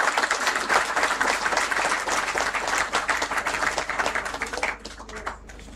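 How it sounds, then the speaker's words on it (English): A crowd at a moot court prize distribution ceremony gives a full round of applause, dense close clapping that holds steady for several seconds before tapering off near the end. "A huge round of applause for him."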